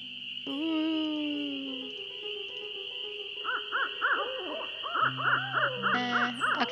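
Ghostly dogs bark and howl in the Nancy Drew game Ghost Dogs of Moon Lake, a string of pitched, echoing yelps and whines over a steady eerie synth drone, fairly quiet and without speech.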